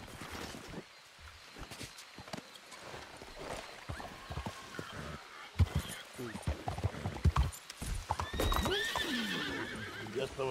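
Horse hooves clip-clop in the Red Dead Redemption II video game, close and uneven, with a horse whinnying toward the end and voices talking over parts of it.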